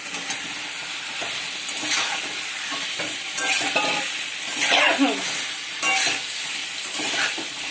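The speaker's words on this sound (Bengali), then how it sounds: "মশলাটা একটু কষে নেবো যে মশলাটা কষা হয়ে গেছে দিয়ে দিচ্ছে কচুরমুখী" Spice paste with turmeric sautéed in a pan as taro pieces go in, a bright steady sizzle with scraping stir strokes and a few louder bursts as the food is added, close by.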